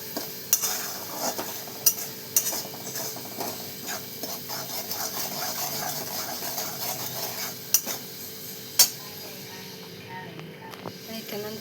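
Chicken masala is stirred in a pan with onion masala and coriander, producing a steady scraping and sizzling with occasional sharp clinks of the spoon against the pot.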